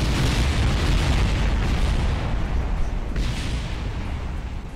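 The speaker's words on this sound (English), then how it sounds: "Look at all the explosions." Loud, continuous explosions and rumbling booms in the spaceflight game Kerbal Space Program, as a runway and nearby structures blow apart, sounding as dense overlapping blasts with no voices.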